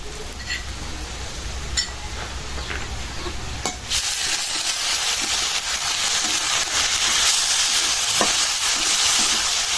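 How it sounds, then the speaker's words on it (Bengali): Ginger-garlic paste frying and being stirred in a pan to cook down the spice base for a farm-raised rooster curry. Steady close sizzle grows louder after a few seconds, with occasional stirring scrapes and no talking. "সাথে আদা রসুন বাটাটা ভালো করে ভাজা নিলাম মশলা কষানোর জন্য"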